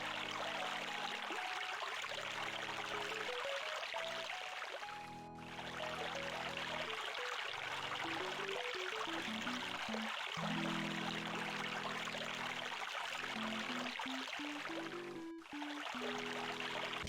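A fountain in the Shannara video game sends out a continuous stream of running water, a steady hiss and trickle with no voices. Gentle synthesized music notes shift underneath, and two brief dips interrupt the flow.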